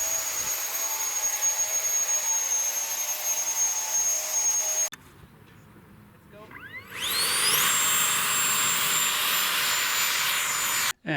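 3D-printed RC Harrier VTOL model jet, a high-pitched electric ducted-fan whine that cuts out abruptly, then spins back up with a rising sweep to a loud steady scream before stopping.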